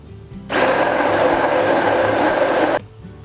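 An electric mixer whirs loudly and steadily for about two seconds, blending vegan orange and yogurt cake batter, then stops abruptly with no talking over it.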